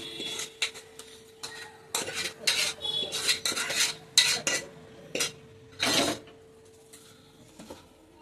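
Mixed vegetable curry being scraped and spooned from a pan into another bowl, a run of sharp metallic clinks and scrapes in irregular bursts, close and fairly clear with no talking.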